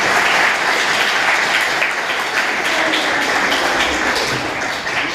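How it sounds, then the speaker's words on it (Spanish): Audience at a school talk on the stock market at Colegio Cervantes de Montevideo applauding, dense, sustained clapping from a full room, loud and steady throughout without a break. "vamos a dar un aplauso"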